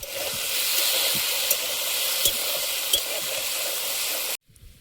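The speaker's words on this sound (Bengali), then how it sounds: "আলুটা প্রায় ভাজা হয়ে এসছে" Potatoes fry in hot oil with a loud, continuous close sizzle and a few sharp spatters, then the sound cuts off abruptly near the end.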